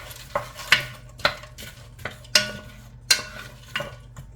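Wooden spoon stirring onions in a pot, a series of sharp scraping knocks against the pot spaced roughly every half second over a faint steady sizzle.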